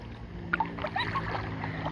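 Rowboat being paddled on water at a mountain campsite in Chonburi, with soft splashes and oar sounds over steady background noise, close by and fairly quiet.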